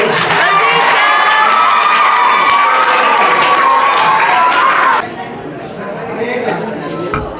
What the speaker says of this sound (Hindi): अब मैं जोरदार तालियों से आमंत्रित करती हूँ हमारे बलजीत सर को।